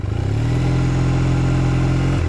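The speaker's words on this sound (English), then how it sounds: "Fast idle just does this." A Triumph Thruxton motorcycle engine held at fast idle, a loud, steady, close low rumble with a throbbing beat that holds even for about two seconds, then cuts off abruptly at the end.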